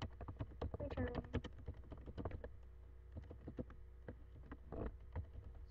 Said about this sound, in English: So you can hear my typing.